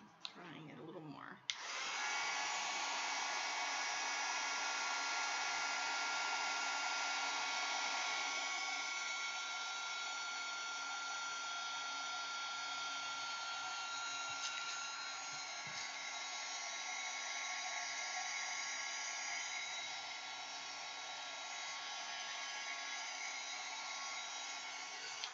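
A hair dryer blows steadily on glued paper ephemera for a junk journal, a close, loud, continuous whir that starts after a brief click and holds with only slight shifts in tone.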